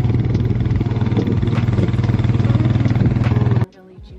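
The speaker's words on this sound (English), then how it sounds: "Oof, our tractor's on the way." A farm tractor engine at a strawberry field, a loud steady low chugging rumble close by that cuts off sharply near the end.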